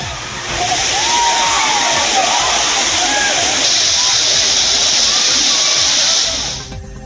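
Courtallam main waterfall in Tamil Nadu pours in a steady, loud broadband roar, with a crowd of bathers adding faint shouts and voices throughout before the rush cuts off near the end.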